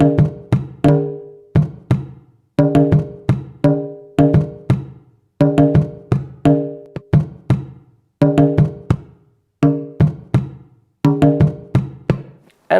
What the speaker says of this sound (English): the next drum is the Funde drum, which is responsible for the heartbeat in Nyabinghi drumming.